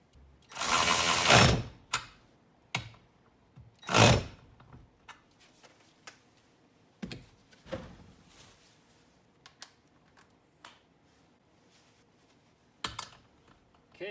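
Ryobi cordless ratchet tightening a bolt: two loud bursts of motor whir, then scattered faint clicks, taps and handling noises in an otherwise quiet room.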